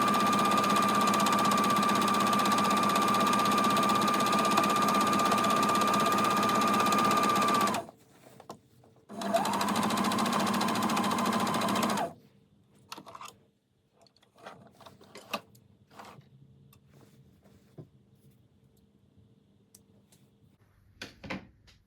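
Sewing machine stitching waistband seams on a garment, running in a long steady whir with a brief stop, then a second run, followed by clicks, knocks and handling noises as the machine falls quiet.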